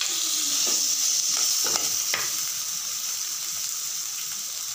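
Chicken frying in a pan with tomato and garlic gives a close, steady sizzle, with a few sharp stirring clacks and scrapes early on before the hiss settles and carries on alone.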